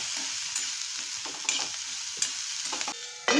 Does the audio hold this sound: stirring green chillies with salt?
yes